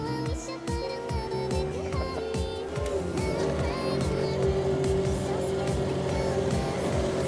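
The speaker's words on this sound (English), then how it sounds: "We asked this 50-year Zamboni driver to take us for a spin." A Zamboni ice resurfacer rolls across a hockey rink with a veteran driver at the wheel, its motor giving a close, continuous hum whose pitch shifts and settles into a steady drone.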